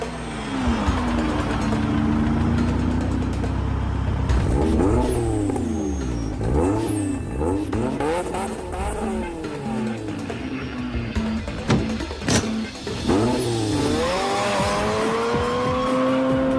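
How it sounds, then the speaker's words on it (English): A Ford Fiesta ST engine revs hard and rapidly up and down, with short sharp hissing bursts from a Type-S turbo blow-off valve venting between revs, loud and close. "the iconic sound of the Gretty Type S blow-off valve"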